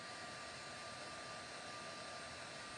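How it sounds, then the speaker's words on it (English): A heat gun blows steadily while drying wet watercolor paint on flower petals, a faint, even whooshing hum with no variation and no talk. "The dryer, this is a heat gun, by the way."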